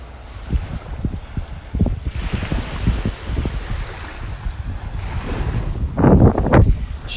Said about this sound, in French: il y a quand même pas mal de vagues